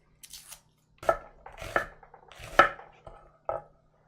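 A knife chopping onions and garlic on a board while cooking risotto, sounding as a few separate clustered bursts of close, crisp cuts with short pauses between them.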